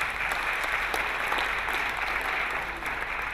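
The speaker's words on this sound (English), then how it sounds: "Please give her a round of applause." Sustained applause from the audience at a university convocation lecture, a dense, even wash of clapping held steady and fairly close throughout, with no talk over it.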